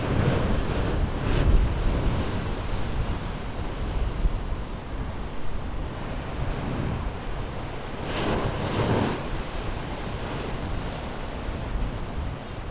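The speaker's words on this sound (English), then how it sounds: "where the waves break over the rocks" Ocean waves break over the rocks of a Galápagos shore, a steady roar of surf with wind buffeting the microphone and a louder surge of breaking water near the end.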